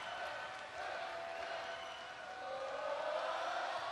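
A crowd cheers for the Washington Huskies at a women's volleyball match against UCLA, a faint distant roar that swells slightly over four seconds.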